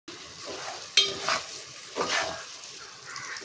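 Taro root pieces are stirred with chili powder and salt in a pot, giving a few soft scraping strokes close by with a sharper knock near the start and no talking.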